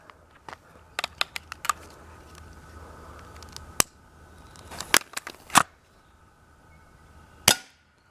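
A firecracker-powered pellet rifle goes off and the pellet hits a can: several sharp cracks and pops, with a few louder bangs near the end, close by and separated by quiet stretches, with no voices.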